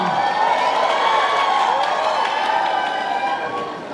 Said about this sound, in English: Can we give them a loud round of applause?